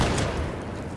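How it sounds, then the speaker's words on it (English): Shotgun blasts in the battle royale game H1Z1, a dense burst of loud overlapping booms packed into about a second, with no voices over them. "I'm using a shotgun to shoot down"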